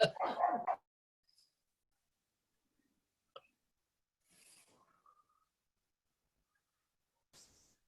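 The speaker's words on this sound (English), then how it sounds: "Excuse my dog, apologies." A single dog barks once, close and fairly loud, at the opening, followed by near silence with a few faint clicks and small background noises in a quiet home during an online meeting.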